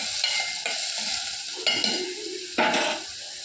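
Onions sautéing in oil in a pan sizzle steadily and close, broken by several scraping stirs of a spatula against the pan at irregular intervals, with no talking.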